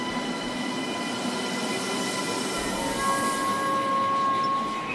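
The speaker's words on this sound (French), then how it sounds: "Les rames se succèdent rapidement, encore que l'on n'en soit pas au rythme du métro." French TGV high-speed trains run past one after another in a steady rolling roar with faint metallic tonal whine, moderately distant and without voices.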